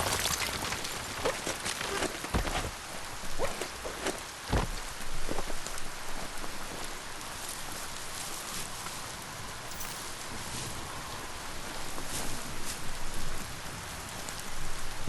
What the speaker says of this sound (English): When it rains, it gets wet.